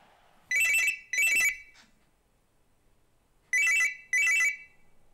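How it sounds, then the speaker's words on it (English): A mobile phone ringtone for an incoming call sounds as two pairs of bright, identical electronic chirps separated by a pause, close and clear with no talk over them. "It's a dodgy phone call again."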